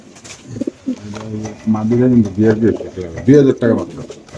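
A white racer pigeon coos in low, throaty bursts close by, mixed in with a person talking over it.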